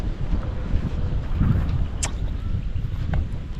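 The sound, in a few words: wind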